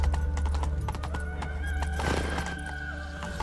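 Roach the horse from The Witcher 3 video game gallops with steady, close clip-clop hoofbeats, a whinny rising briefly around the middle over a continuous low rumble, with no talking.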